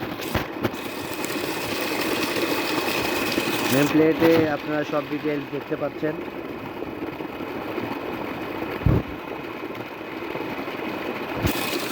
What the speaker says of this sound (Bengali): আপনারা দেখতে পাচ্ছেন এসিআই এজিএম 5B 1 হর্স 2 ইঞ্চি ডেলিভারি শেষ মোটর